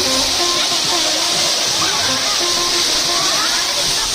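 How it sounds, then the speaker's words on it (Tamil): A steady, loud rush of a small waterfall at Anaivari Muttal near Attur, Salem, fills the scene without pause, a broad hissing roar close by. "சிறு நீர்வீழ்ச்சினாலும் அருமையாக இருக்குங்க"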